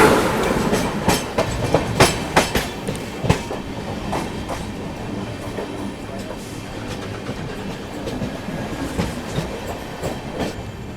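The Islampur–New Delhi Magadh Express passes close by on Indian railway tracks, a loud continuous rumble with a rhythmic clickety-clack of wheels over rail joints and occasional metallic clanks.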